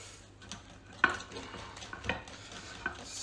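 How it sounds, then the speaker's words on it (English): Wooden spoon stirring a golden syrup cake batter in a bowl to break up lumps, quiet soft scraping with a few sharper knocks against the bowl, close and unhurried. "I'll just put my wooden spoon here over this and just get this in here to get all the lumps out and give it a good old stir"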